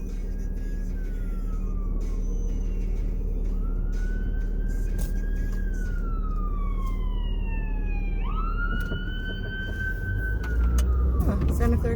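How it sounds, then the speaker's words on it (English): An ambulance siren in Santa Clara County wails with rising and falling sweeps as it passes, over steady traffic rumble and road noise. "here comes an ambulance"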